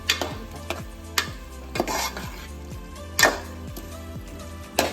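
A utensil stirs and mixes green chicken masala in a pan: repeated close scraping and clinking strokes against the metal, with a faint sizzle underneath.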